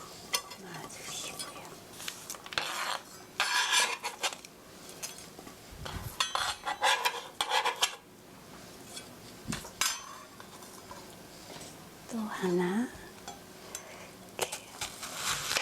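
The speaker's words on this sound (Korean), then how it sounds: "자, 양파 두 개는 이렇게 다 썰었습니다" A knife cuts onions on a kitchen board in irregular clusters of quick chopping taps, with clinks of utensils and a low background hum between bursts.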